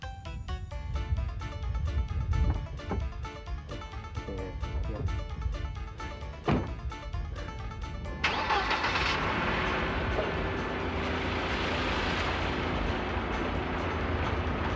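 A car engine turning over and starting: mechanical cranking and clicking give way to a steady running roar that carries on to the end, with voices faint in the background.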